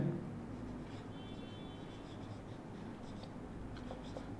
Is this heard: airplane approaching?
no